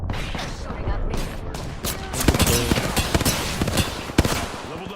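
Rapid gunfire from a team-based first-person shooter video game, with dense overlapping bursts and sharp shot peaks under continuous player chatter.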